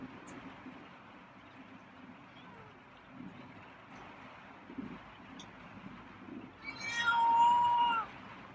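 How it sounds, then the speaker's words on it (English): A feral cat gives a loud, drawn-out yelping meow near the end, following several seconds of steady rain or wind noise from a storm and a few faint earlier sounds. "there's that yelping meow"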